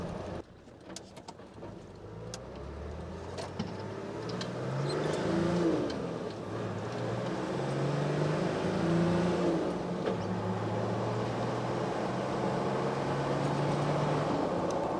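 A turbocharged vehicle with a newly replaced fuel pump accelerates on a test drive, its engine note climbing in pitch and loudness through gear changes and then holding a steady drone, with no voices.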